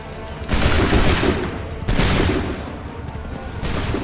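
Musket volley fire in the video game Assassin's Creed 3, three loud, booming massed volleys crackling out about one and a half seconds apart, each decaying into a rolling rumble.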